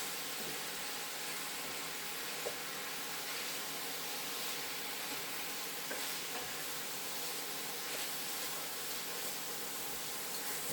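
Chicken noodles stir-frying in a hot pan give a steady, dense sizzle with faint scraping as the food is kept moving, continuous and close throughout with no voices.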